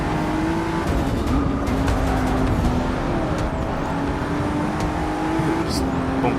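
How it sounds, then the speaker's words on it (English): A Corvette racing in Forza Motorsport 6, its engine droning steadily with a shifting pitch and tire noise, loud and continuous throughout, with a voice talking over it. "Just bumping on that Corvette."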